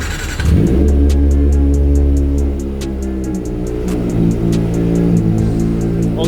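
A modified Kawasaki ZX25R motorcycle starts up indoors and settles into a loud, close idle with sharp blips of revving, its rough mechanical drone echoing in the room.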